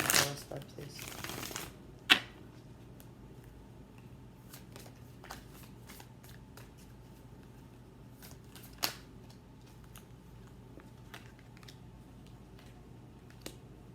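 Oracle cards being shuffled, with a dense riffling burst at the start, then a few isolated card snaps and light taps against a quiet background.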